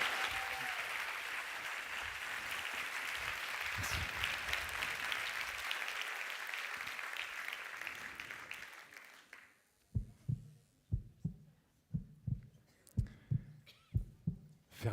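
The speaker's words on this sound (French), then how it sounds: "Je vous demande de faire un tonnerre d'applaudissements pour Alexandre Antonienko." Audience applause at a French talk, dense and sustained for about nine seconds before cutting off, followed by a quiet stretch of slow, regular, heartbeat-like low thumps.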